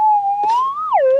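A metal detector over a piece of quartz, sounding a clear sustained electronic tone that holds steady, rises slightly, then dips in pitch near the end, loud and close with no talking.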